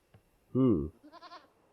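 Goats bleat in the Age of Empires strategy game, a short wavering bleat up close followed by a second, higher, fainter bleat, with the game's ambient sound low behind.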